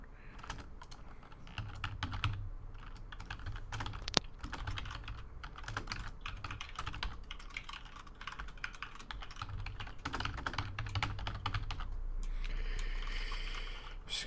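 Continuous typing on a computer keyboard, quiet and close, with rapid irregular key clicks and brief pauses between bursts, and no voices.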